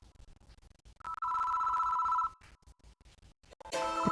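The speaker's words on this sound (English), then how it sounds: "The ringing doesn't stop." An old telephone rings in the horror game Spirit Hunter: NG, one steady electronic trill lasting about a second over quiet background, followed by a harsher, buzzier burst near the end.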